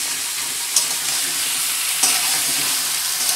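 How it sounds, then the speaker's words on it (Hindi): Chicken pieces frying in a pan give a bright, close sizzle while being stirred, with a few distinct spatula scrapes and taps breaking through the steady hiss. "चिकन को थोड़ा सा फ्राई कर लूंगी"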